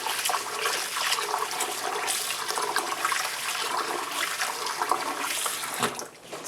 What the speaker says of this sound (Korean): 찹쌀을 씻겠습니다